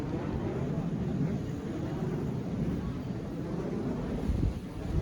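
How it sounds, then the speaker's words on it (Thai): A wind turbine spins close by in strong wind, a loud continuous roaring rush with heavy wind buffeting on the microphone that holds steady throughout. "ตอนนี้กังหันลมก็กำลังทำงานนะทุกคนดู"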